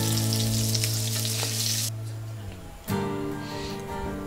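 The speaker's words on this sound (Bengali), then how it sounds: "দেখুন আমার মাছগুলো ভাজা হয়ে গেছে।" Fish pieces frying in hot oil for a Bengali fish curry give a steady, close sizzle that drops back partway through, then swells again as pieces are stirred or lifted.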